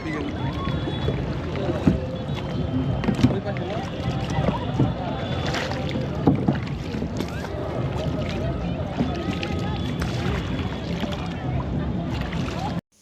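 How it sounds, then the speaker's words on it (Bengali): A paddled kayak moves through water, with light splashing and lapping around the hull, some wind buffeting, and people talking over it throughout. "আর পানির শব্দ"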